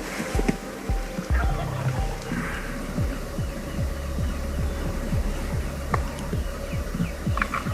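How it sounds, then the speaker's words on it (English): Wild turkeys at dawn by a Texas wheat field on opening day of turkey season, with low repeated throbbing calls and gobbling over a steady low hum in an outdoor setting, without talk. "Turkey's been gobbling pretty good"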